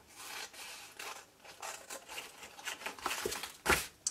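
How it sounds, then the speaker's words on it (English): A blade rasps and scrapes through bag material along score lines in short close strokes, soft and textured, ending with a sharper cut. "trim there and cut away the little skinny bit down here"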